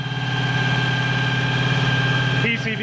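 A Ford Foxbody with a 351 Windsor V8 idles steadily up close, a deep continuous rumble with a smooth, even pulse throughout, a brief change in tone near the end.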